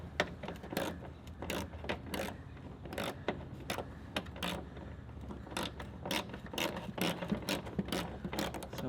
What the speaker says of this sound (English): There is also 2 actually bolts here and there, and with the extension just get them out.